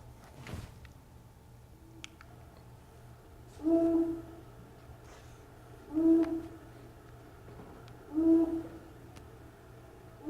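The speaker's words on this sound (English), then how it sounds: "Kate is going to play a 30-second loop of the long-eared owl callback." A recorded long-eared owl call played back outdoors as a survey callback. Three low, evenly spaced hoots come about two seconds apart, fairly faint against a quiet background.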